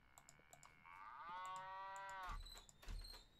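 Cartoonish cow moos in a restaurant-management video game, one drawn-out bellow rising and holding steady before fading, over faint keyboard-like clicks and a couple of low thumps.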